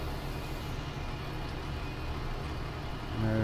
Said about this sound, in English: There's our tractor now.